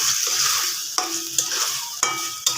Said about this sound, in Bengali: এখন আমি নাড়া দিয়ে দিব।